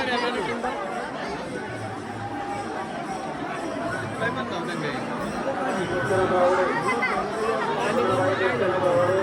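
Dense crowd chatter fills a busy spot near a bathing tank, a steady babble of many overlapping voices with no single speaker standing out, holding an even loudness throughout.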